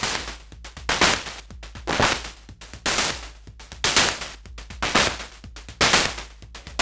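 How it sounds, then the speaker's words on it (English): Harsh, noisy hi-hats synthesized on a Moog DFAM repeat in a steady loop of bright hissing hits, loud and close, with no voices. "So you can go from these kind of harsh, noisy kind of hi-hats"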